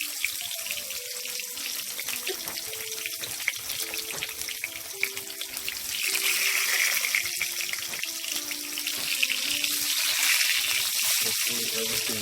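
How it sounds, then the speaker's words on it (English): Breadfruit sizzles and crackles steadily in a pan, a hissing fry that grows louder partway through, with faint clinks and movement nearby. "We are just frying up our breadfruit now."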